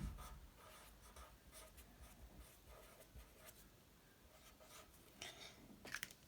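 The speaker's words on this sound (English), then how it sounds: "So let me write that down for you." Pen or pencil writing on paper, close and quiet, with short scratchy strokes in an uneven rhythm and a few louder taps near the end.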